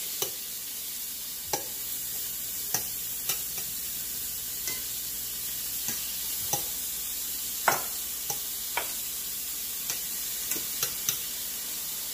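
Shrimp and garlic sizzle and fry in a pan for a shrimp fried rice dish, a steady crackling hiss broken by occasional sharp utensil taps and stirs across the whole stretch, close and with no talking.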